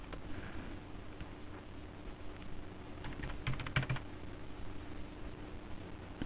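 Computer keyboard keys clatter in quick, irregular taps during accounting data entry, including presses of the Enter key, close and moderately loud over a faint steady hum.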